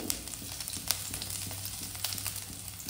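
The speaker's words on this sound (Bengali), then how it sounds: "রসুন কুচি, একটু লঙ্কা কুচি আর একটু আদা কুচি। একটু ফ্রাই হবে" Chopped garlic, chili and ginger fry in hot oil for a Veg Manchurian momo dish, giving a steady, soft sizzle with faint crackles throughout, close by and with no talking.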